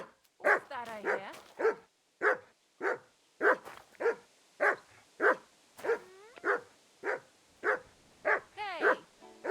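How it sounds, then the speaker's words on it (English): A dog in the medieval role-playing game Kingdom Come: Deliverance II barks steadily and close, about fifteen sharp barks in an even rhythm, some ending in whiny yelps. "Call off that dog now!"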